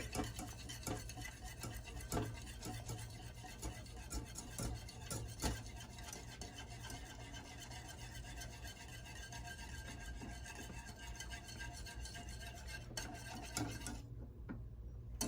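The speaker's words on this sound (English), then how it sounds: "I'm just gonna give that a whisk." Milk being whisked in a pot on low heat, a continuous close scraping and stirring with faint metallic rubbing that stays steady throughout, then cuts off at the very end.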